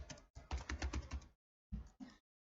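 Rapid keystrokes on a computer keyboard come in a quiet burst of clicks, a short pause, then two more taps, close and soft.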